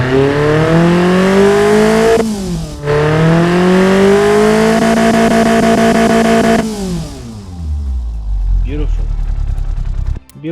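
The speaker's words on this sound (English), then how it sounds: "Let's fire it up now before we go into the bigger things." A replica Nissan KA24DE engine with a new exhaust, ECU and individual throttle bodies fires up and revs loudly several times in rising and falling sweeps, then drops to a low idle before cutting off.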